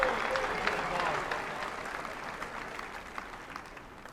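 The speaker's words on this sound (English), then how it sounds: "I do believe applause are in order" A commencement audience applauds as the program is about to begin, a fairly distant wash of clapping from a large crowd that gradually tapers off.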